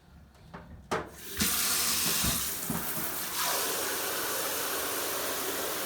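Water splashes and pours steadily into a bucket in a continuous hissing rush, beginning after a few clunks and continuing loudly to the end, while an Aquael Ultramax 2000 aquarium filter is tested.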